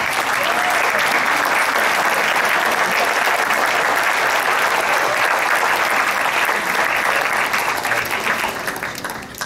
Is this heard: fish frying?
no